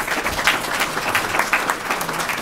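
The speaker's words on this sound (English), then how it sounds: "If we could have a round of applause for the panelists" An audience at a panel discussion applauds the panelists, steady dense clapping from many hands filling the room without a break.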